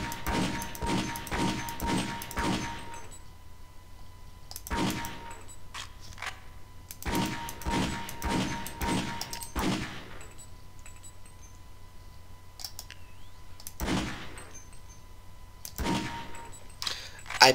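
Pistol shots ring out at a firing range in Half-Life: Opposing Force, loud sharp cracks in quick clusters of several shots separated by pauses, with single shots later, each followed by a short ringing tail.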